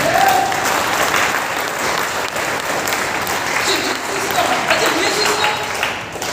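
A seminar audience for DXN, the business network, claps in a sustained, fairly loud burst of applause lasting several seconds, with faint voices mixed in.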